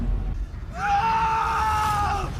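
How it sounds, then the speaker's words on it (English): A character screams in the Link Click anime dub finale, a sustained strained cry of about a second and a half, loud and close, rising out of low rumbling background. "Lu's scream there is so great"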